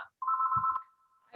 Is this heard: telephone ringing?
yes